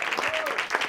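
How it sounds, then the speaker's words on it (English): An audience at a hackathon event applauds a team, a brief steady wash of clapping with a voice faintly audible over it. "So give them a round of applause."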